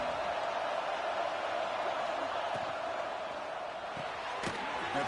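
A home stadium crowd roars in the College Football 26 video game, a steady, dense wash of cheering and noise throughout with a couple of faint thumps.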